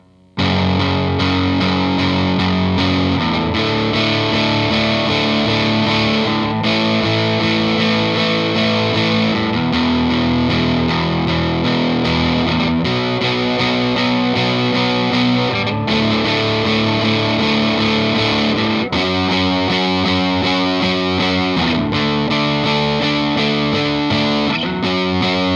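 Distorted electric guitar with effects plays the final chorus of a song, steady chord changes sustained loudly throughout with no voices.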